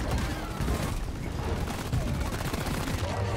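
Dense rapid gunfire from the first-person co-op game Deep Rock Galactic, a steady loud barrage of overlapping shots filling the whole moment without pause, with faint player voices underneath.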